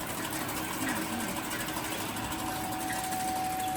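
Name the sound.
bamboo coffee stirring stick packing machine DZB-300B running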